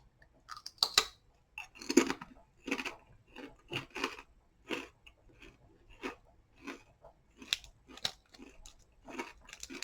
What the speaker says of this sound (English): Even firmer crunch, really, really crunchy.